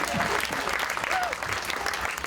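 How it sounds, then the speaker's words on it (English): Audience applause welcomes a volunteer named Letitia onto the stage at a comedy magic show, a dense, steady wash of clapping filling the room with a brief vocal whoop partway through. "Everyone give Letitia a huge round of applause as she joins on stage"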